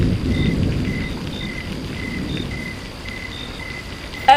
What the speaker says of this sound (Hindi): आंधी तूफान आ गई है